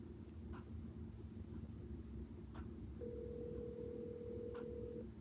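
Phone call to a contact, with a steady outgoing ringback tone running for about two seconds over constant low rumble and hum, plus a few faint short clicks.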